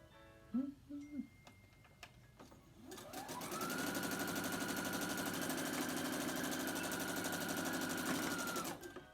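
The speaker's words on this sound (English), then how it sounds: "Now I'm going to sew these two together." Sewing machine stitching quilt fabric, starting after a few brief spoken words and handling noises, then running steadily and loudly in a fast rhythmic whir for about six seconds before stopping.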